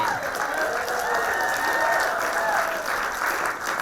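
An award show audience applauds grant winners, dense sustained clapping and crowd noise with a voice speaking over it throughout.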